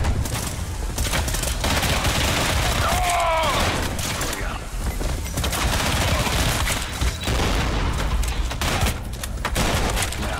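Rapid bursts of gunfire fill a shooter video game, Tripang 2, dense and continuous across the whole stretch, with a layer of game noise and faint speech-like sound underneath.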